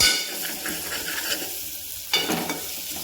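Tomato bath masala being stirred in a hot pan, with a steady sizzle under repeated scraping strokes and a louder burst of frying and scraping near the end.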